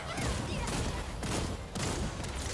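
Rapid bursts of pistol fire from a Gunslinger fighting in Lost Ark, dense overlapping shots and impacts in a continuous barrage, loud and busy with battle effects throughout.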